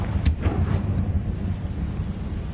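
Confringo fire spell blasting in Hogwarts Legacy: a sharp burst followed by a rumbling boom that tails off into a low roar over about two seconds.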